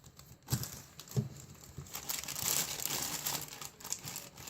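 Plastic zipper bags crinkling and rustling as they are handled up close, with continuous crackling and a few sharper crunches, no talking.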